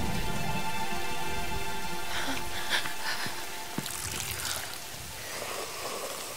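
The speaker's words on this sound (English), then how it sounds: "All this rain and whatnot." Steady rain falls in the video game Tomb Raider, a continuous wash of pattering and trickling water with a faint tonal hum underneath and a few scattered knocks.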